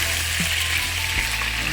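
Chicken pieces sizzle loudly and evenly as they brown in a pan, a dense close frying hiss with a couple of soft knocks as they are turned.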